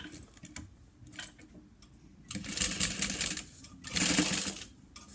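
A sewing machine bastes fabric for a lunch box in short ticking runs, then two louder, faster bursts of whirring stitching close by.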